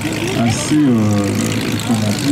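A SIPA light aircraft flies past in landing configuration with flaps extended, its propeller engine droning steadily in the background while someone talks over it in French.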